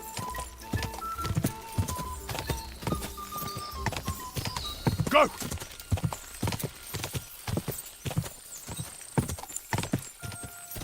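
Horse hooves clip-clop at a gallop in the medieval video game Kingdom Come: Deliverance II, a fast, loud, steady beat with a whinny partway through and a voice briefly calling out over it.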